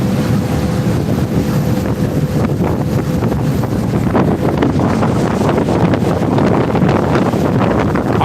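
Loud, strong wind roars and buffets the microphone continuously aboard a Thames Clippers boat on the River Thames in London, with a low rumble of water and the boat engine underneath.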